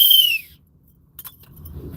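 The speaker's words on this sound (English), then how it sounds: "Blow the whistle." A whistle blown once in a short, shrill blast during a live stream, with a slightly falling pitch. It cuts off after about half a second, leaving a quiet room with faint scattered knocks.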